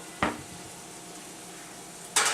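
Turkey meat browns in a pan with a steady, soft sizzling hiss throughout, interrupted by two brief louder scrapes or stirs at the start and end.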